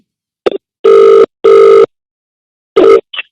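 A telephone call: two short dialing beeps, then two long ringback tones, then one more tone cut short by a brief click, all loud and clear against silence.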